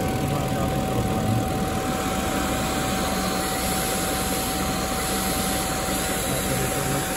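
BMW 740i E38 facelift with the 4.4-litre V8 idling, a steady, even rumble heard close and continuously, with no voices or revving.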